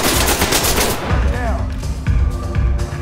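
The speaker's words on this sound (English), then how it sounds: "Why am I getting shot?" Rapid automatic gunfire from Ready Or Not rattles close and loud throughout, dense overlapping shots striking near the player, with brief gaps and a ringing tone in the middle.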